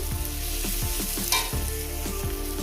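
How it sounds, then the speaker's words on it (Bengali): Steady sizzle of spinach and small fish frying in a pan with rhythmic scraping of a spatula stirring, no voices. "এটাকে দু মিনিট কি আড়াই মিনিট কি তিন মিনিট ভেজে নেবো"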